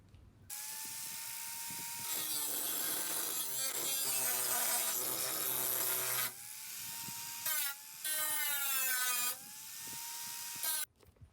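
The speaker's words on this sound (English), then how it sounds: "going to try to use our grinder to get this stuff off and to smooth out all of these edges" An electric grinder smooths the jagged metal edges of a window hole cut in a van's sliding door, giving a close, loud whine whose pitch dips and rises under load, broken by a few short pauses.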